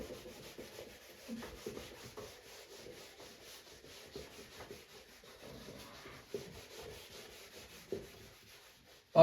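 A board is rubbed clean in a classroom, giving soft, irregular scrubbing strokes that come in short bursts, fairly quiet and close, with no talking.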